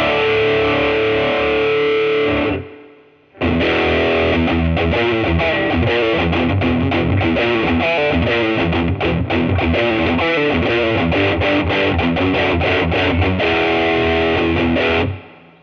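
Heavily overdriven electric guitar through a Laney Super Cub 12 combo with boost raised, chugging and ringing loudly with a gritty, saturated crunch, pausing briefly before launching into a dense, continuous riff.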